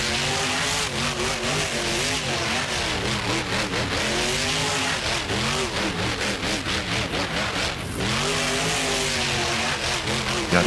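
A car engine in BeamNG.drive revs hard through repeated rising and falling sweeps as it shifts up to third gear, loud and close, with a brief dip near the end and tire noise mixed in.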